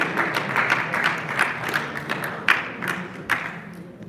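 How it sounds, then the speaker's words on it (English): Crowd at a boxing weigh-in applauds, a steady wash of many hands clapping in a large room with a few sharper individual claps standing out. "Big round of applause for our co-main event"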